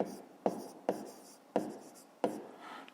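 Pen on paper in a fifth-grade math exercise, four distinct scratchy writing strokes spaced about half a second apart, close and soft, with no speech.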